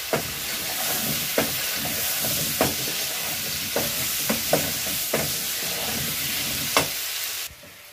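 Garlic sizzles and fries in a pan with a steady hiss, punctuated by a series of sharp stirring clacks of a utensil against the pan, loud and close with no talking.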